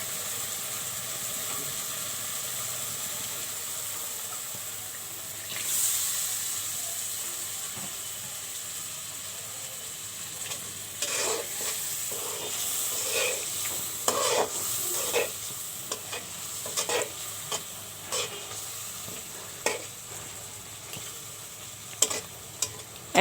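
Prawn heads fry in a pan of cooked-down spice masala for a sweet pumpkin dish, with a steady sizzle and, later, clusters of sharp scraping strokes as a spoon stirs the pan.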